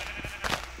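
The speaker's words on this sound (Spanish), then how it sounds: "Pinche oveja virola" A brief sheep bleat in a video game, a short nasal cry rising over a faint background hum.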